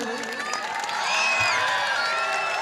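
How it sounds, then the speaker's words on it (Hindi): Audience at an Urdu mushaira poetry gathering in Madanpura Nayi Basti, Mau, clapping and cheering together, a dense wash of applause with whoops that swells slightly and holds, with voices mixed into the crowd noise. "एक मरतबा ताली बजा दो भाई"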